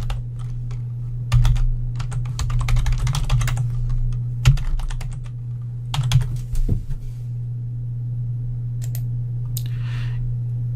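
Keystrokes on a computer keyboard come in a quick burst of clicky taps, pause, then another short run and a few isolated presses, close and clear over a steady low hum.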